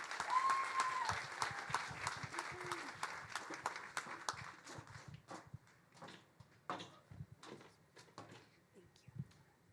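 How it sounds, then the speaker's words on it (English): Audience applause at the Cal Poly CIE Demo Day 2021 startup pitch event, many sharp hand claps forming a lively burst that thins out and tapers off over several seconds. "Let's give them a round of applause."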